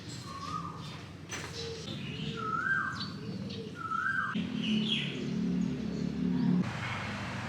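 Birds chirp and call in short rising phrases over a busy outdoor background in Phetchaburi, Thailand, with a low droning pigeon coo toward the end.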